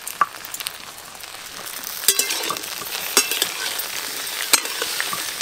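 Capsicum stirred and fried with a metal spatula in a home kitchen pan: a steady close sizzle broken by sharp scraping clinks of the spatula against the pan, with no talking.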